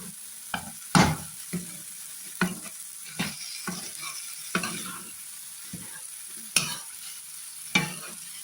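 Dry chickpeas roasting in a pan are stirred with a spoon, giving a run of irregular scraping, rattling strokes about once a second over a faint sizzle, close and fairly loud with no voices.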